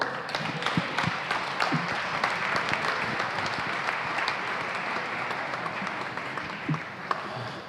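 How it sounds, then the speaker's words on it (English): Sustained, full audience applause at a live show, dense clapping that carries steadily throughout with a few louder individual claps standing out near the end. "Keep the applause going till he gets up the stairs"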